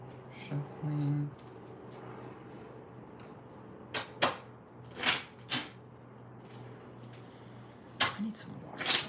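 Playing cards for a tabletop elemental card game are shuffled in several short, crisp riffling bursts, spaced a second or two apart in a quiet room, with faint voice-like murmurs between them.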